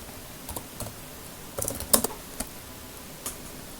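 Keys clatter on a computer keyboard as a command is typed, a short run of light, irregular taps with a few louder clicks near the middle, close and otherwise quiet.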